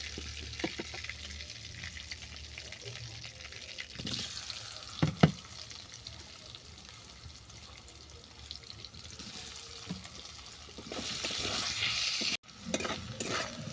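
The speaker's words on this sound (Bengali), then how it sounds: "এই তেলের মধ্যে আলু আর পানি ফলটাকে আমি ভেজে নেব।" Potatoes and water chestnuts frying in hot oil, giving a steady close sizzle with occasional stirring scrapes and a brief louder burst of crackling near the end.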